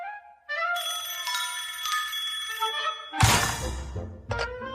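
A cartoon telephone rings in Animaniacs with a loud, tinny, bell-like trill that repeats for about three seconds, followed by a sudden harsh noisy burst and a brief tonal blip.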